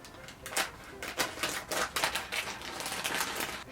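A chip bag being opened along its side with scissors, a quick run of crisp crinkly snips and rustles, close and fairly quiet.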